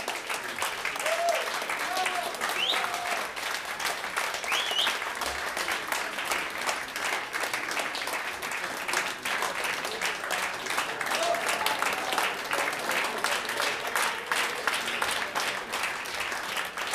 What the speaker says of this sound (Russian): Спасибо большое, что вы хлопаете.